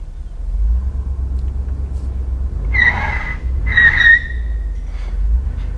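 A car rumbles steadily as it drives off into a yard, with a couple of brief high squeals partway through, heard close and alone.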